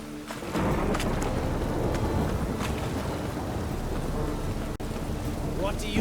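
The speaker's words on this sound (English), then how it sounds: "Rain again. Damn mages. A storm, damn it." Heavy rain pours through a storm in The Witcher 3 video game, a dense, continuous hiss that stays loud and even throughout, with a brief dropout near the end.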